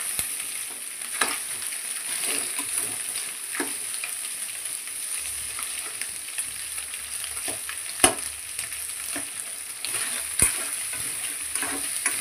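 Blood fry curry cooks in a pan with a constant hissing sizzle, and scattered spoon scrapes and sharp clinks come through as it is stirred. The sound is close, with no voices.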